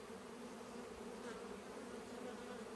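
Honey bees buzzing inside an opened hive, a steady, close swarm drone that stays even throughout.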